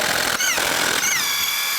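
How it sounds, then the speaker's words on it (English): An impact or power tool spins lug nuts off a 2002-2006 Chevy Avalanche truck wheel with a 22mm socket, giving a steady loud whirring whine with a pitch that shifts slightly as it runs. "Take the lug nuts off,"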